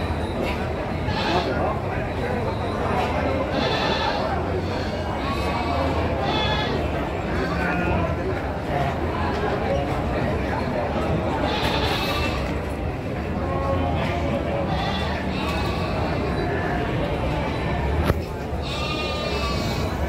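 Sheep at Tanjungsari livestock market in Sumedang, luxury class C animals of about 50 to 55 kg, bleat repeatedly amid a busy, noisy market crowd, with people talking throughout.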